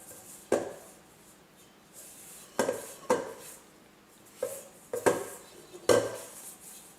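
Pizza dough being mixed by hand in a bowl, heard as about seven scattered knocks and scrapes of a utensil against the bowl, close and clear over a quiet background, with no talking.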